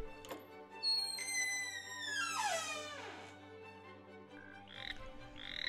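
Frog croaking in an animated French children's story, heard alone after a sweeping cartoon sound effect, with a few short croaks near the end over soft background music.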